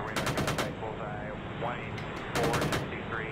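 Bursts of automatic gunfire from an Apache helicopter providing ground support, two rapid strings of shots about two seconds apart, heard over radio chatter and talk.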